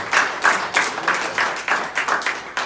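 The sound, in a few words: church congregation applauding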